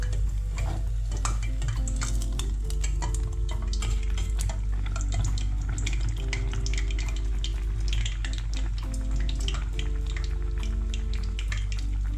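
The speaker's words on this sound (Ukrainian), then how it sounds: "Смажити будемо у великій кількості олії." Steady crackling and sizzling of belyashi dough frying in a deep pot of oil, continuous and close, with occasional faint clinks.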